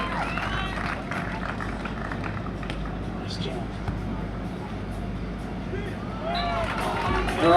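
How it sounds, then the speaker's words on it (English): A beach volleyball crowd at Manly Beach claps and cheers as a steady, fairly loud hubbub, with a voice talking over it throughout. "Manly Beach, clap your hands for your Aussie boys."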